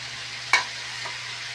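Mixed vegetables being sautéed in a pan for a mung bean dish, with a soft steady sizzle and one sharp stirring scrape near the start.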